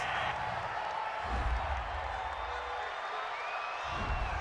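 Large football stadium crowd reacting to a roughing-the-passer penalty call during an NFL game, a steady distant roar with faint whistles and scattered shouts.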